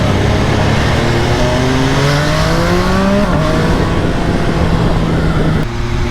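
An MV Agusta Brutale Dragster 800 RR motorcycle: steady engine drone with rising revs, a sudden drop as it downshifts, then a low burbling exhaust gurgle continuing at constant loudness.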